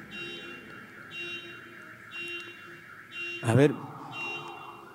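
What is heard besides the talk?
alarm going off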